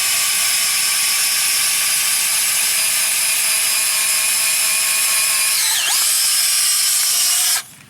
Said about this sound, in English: you just plunge the end in here like this and it pushes the hay down into the canister